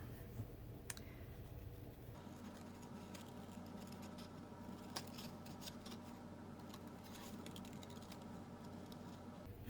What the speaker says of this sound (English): good, sharp scissors are perfect for this